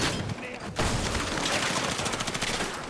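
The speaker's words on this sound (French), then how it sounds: "fusil à pompe" Gunfire in the video game Battlefield 6, with a shotgun amid sustained rattling shots and a sharp blast near the start, loud and continuous while a player speaks faintly beneath.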